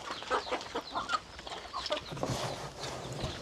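Young chickens cluck busily at feeding time in a farmyard beside rice fields, a steady run of close, overlapping clucks and calls.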